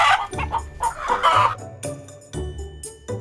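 Chickens clucking close by, a run of short, uneven clucks and squawks in irregular bursts with brief pauses between them, fairly loud and with no voices.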